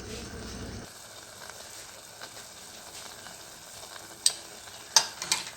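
A Kerala sadya-style pineapple pachadi coconut mixture bubbles in a pot, making a faint, low simmering hiss. A few sharp, close clinks of a utensil against the pot break in near the end.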